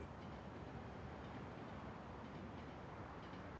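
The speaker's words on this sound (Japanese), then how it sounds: "大ガードの上を電車が通る。" A commuter train crosses a railway overpass above a busy night street in Tokyo, giving a steady, loud broadband rumble and rattle of wheels on track that holds evenly throughout, with no voices.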